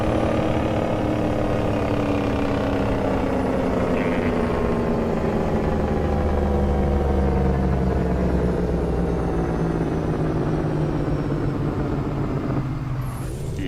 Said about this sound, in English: First person jake brake sounds pretty good